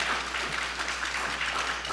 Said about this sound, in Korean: 금요기도회 강사 목사님 박수 한번 해주세요